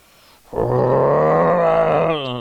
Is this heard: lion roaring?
yes